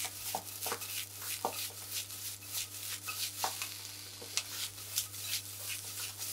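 Vegetables for a sea bream stir fry are tossed and stirred quickly in a hot pan, a soft ongoing sizzle broken by regular scraping strokes, with a steady low hum underneath.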